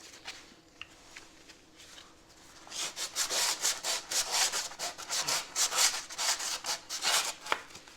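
Hand sanding rust on the body of a 1965 Corvair: after a quiet start, a close, steady run of rhythmic abrasive rubbing strokes, fairly loud and alone.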